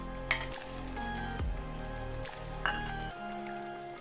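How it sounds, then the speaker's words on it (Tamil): Mutton biryani masala with yogurt sizzles steadily in a pan while being stirred, with a few sharp scraping knocks of the spoon over a low, constant hum. "இப்போ வந்து தயிர் ஆட் பண்ணுறேன். கிளறி விட்டுக்கலாம்."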